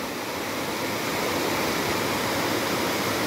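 Stream of a river in the limestone hills of South Gombong on the Kebumen south coast, heard as steady, dense broadband rushing water that stays close and even throughout, with no voices.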